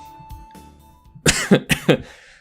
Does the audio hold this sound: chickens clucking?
no